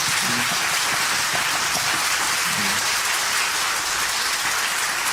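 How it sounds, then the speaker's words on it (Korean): A church congregation at a Friday worship service claps steadily in a dense, loud wash of applause that fills the whole five seconds like heavy rain. "우리 한번 더 크게 박수하겠습니다."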